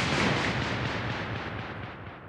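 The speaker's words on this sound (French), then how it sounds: "Une explosion se produit." A loud, booming explosion sound effect rumbles and fades over about two seconds, heard alone with no talk.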